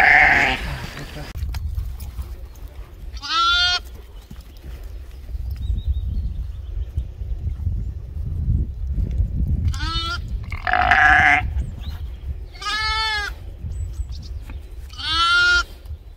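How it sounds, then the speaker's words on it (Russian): Large farm sheep bleat in a rural yard, several loud wavering calls coming at intervals, some close, against low background noise and occasional people talking. "очень крупные овцы, да?"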